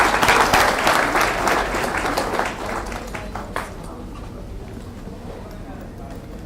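A workshop audience claps, a dense burst of applause that starts strong and fades into a few scattered claps, with voices murmuring in the room.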